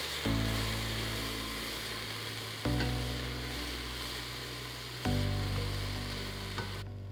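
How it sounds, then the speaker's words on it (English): Red and yellow peppers sauté in oil in a large soup pan, giving a steady broadband sizzle with low hum that swells again at roughly 2.6 and 5 seconds, as if stirred, with no talking. "Add a tablespoon of oil to a large soup pan, and you're going to add in your red peppers and yellow peppers, and you're just going to saute them till they're bright."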